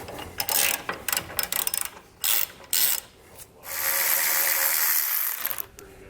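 A ratchet spins out three 15mm bolts from the tow hook cover plate of a 2018 Chevrolet Silverado, giving bursts of close, quick clicking separated by short pauses, then one longer steady run of ratcheting.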